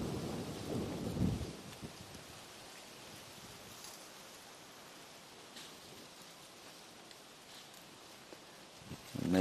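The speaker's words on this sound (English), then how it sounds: "Amazing how the wind is blowing through the leaves and rustling." Steady broadband rushing of wind through dry leaves at sunrise in Sabi Sand, South Africa, a continuous rustling hiss with occasional louder gusts, outdoors with no voices.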